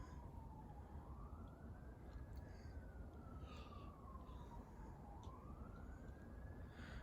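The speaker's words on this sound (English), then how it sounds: "Yep, there goes 2 more sirens." Distant police and fire sirens at night: one faint wailing tone rises and falls slowly, far off and low in level beneath a constant hiss of background noise.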